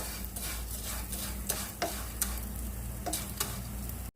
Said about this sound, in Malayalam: ഈ സേമിയ ഒരു ഗോൾഡൻ കളറിൽ നമുക്ക് വറുത്തെടുക്കണം.